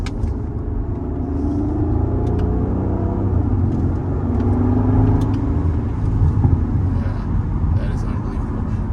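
A Mercedes SL65 V12 accelerating hard, a steady deep engine roar and rumble heard from inside the car for several seconds without letting up.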